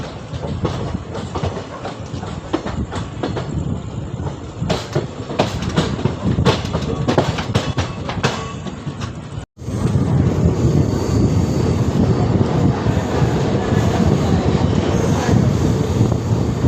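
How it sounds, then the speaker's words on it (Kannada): The Thiruvananthapuram Central–Mangaluru Central Intercity Express rolls past at Mangaluru Central, a loud continuous rumble with rhythmic clatter of wheels on track, briefly cut near the middle and then resuming as a dense, close roar. "ನೀವೇನು ಆ ಟ್ರೈನ್ ನೋಡ್ತಾ ಇದ್ದೀರಲ್ಲ ಅದು Thiruvananthapuram central Mangaluru central express ಅಂದರೆ ಇಂಟರ್ಸಿಟಿ ಎಕ್ಸ್ಪ್ರೆಸ್ ಇವಾಗ ಬಂದಿದೆ ಇಲ್ಲಿ ಮಂಗಳೂರು ಸೆಂಟ್ರಲ್ಗೆ"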